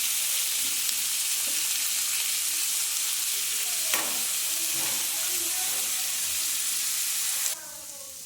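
Potatoes and onions sizzle steadily while being stirred and fried together, with a few louder scrapes of the spoon against the pan partway through; the frying hiss stays continuous and close, then drops noticeably near the end.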